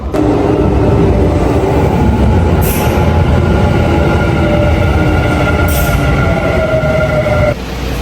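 Interior of a moving train in Japan, a loud continuous rumble of wheels on rails with a steady drone and faint high squeals, close and constant throughout.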